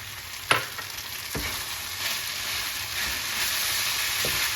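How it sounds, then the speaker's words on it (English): Pork fried rice with sesame oil and green onions sizzles steadily in a hot pan, a constant close frying hiss broken by a few sharp clicks of a utensil stirring against the pan. "we're going to add in our sesame oil here. Just about a teaspoon or so. And then now our green onions go in."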